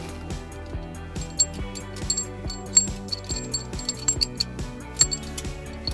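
Metal trailer hitch hardware, a carriage bolt and block, clinks and rattles in short irregular taps and light metallic chinks during installation on a 2019 Subaru Legacy, close and fairly quiet.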